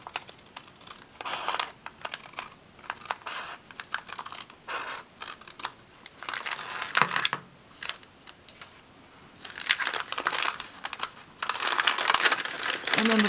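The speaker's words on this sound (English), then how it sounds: "we're going to take our scissors and cut just a little bit off" Scissors cut into a small paper bag while making a junk journal folio, with crisp snips and paper crinkling in bursts, close up, alongside rustling and handling noise.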